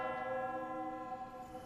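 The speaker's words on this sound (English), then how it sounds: "The bell of Vows ring." A single bell rings out with a sustained, slowly fading tone rich in harmonics, faint and alone with no voices.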